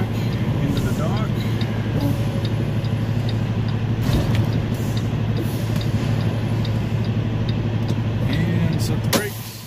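A tractor-trailer reverses slowly in a straight line into a loading dock, its steady low diesel drone and cab hum continuous and close, with a faint hiss and clatter near the end as it settles.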